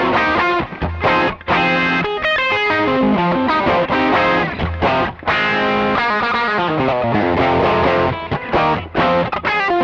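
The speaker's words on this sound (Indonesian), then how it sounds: "Distorsi." A Yamaha Pacifica 812 electric guitar played through its bridge humbucker with heavy distortion, loud, dense chords and riffs chugging continuously with short gaps, no talking.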